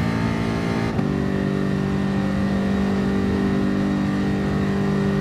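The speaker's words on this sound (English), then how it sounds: "Now, I don't know what the thing is about revving in this car." Car engine in the GT Sport racing game, holding a loud, steady revving drone with a brief shift-like dip near the start, no talk over it.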